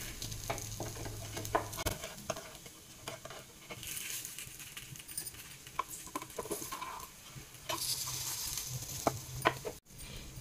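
Semolina appe roasting on their second side in an appe pan, a low crackling sizzle broken by intermittent clicks and scrapes of a utensil against the metal, with no talking.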